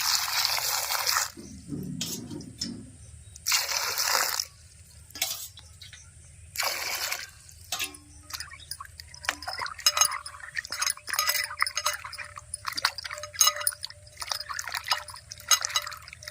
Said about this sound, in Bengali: প্রথমে আমি কুঁদরিটা পরিষ্কার জলে ভালো করে ধুয়ে নেব